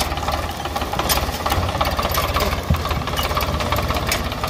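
Vehicle engine idling with a steady low rumble and faint knocking throughout, just before being shifted into first gear.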